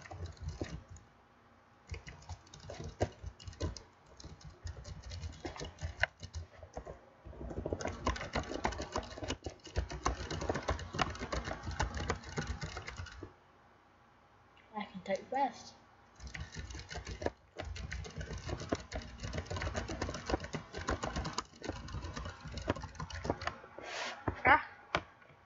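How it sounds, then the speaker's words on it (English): Rapid typing on a computer keyboard: dense, continuous clatter of close key clicks in long bursts, broken by two short pauses, with speech heard faintly in places. "today I'm going to show you that I can type extremely fast"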